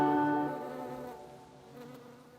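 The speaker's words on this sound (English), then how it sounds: "I'm going to carry on with the work of deadheading and just enjoy the bees." Bees buzz around a flower border in a garden, a close droning hum that starts loud and steady, then fades and drifts as the insects move away.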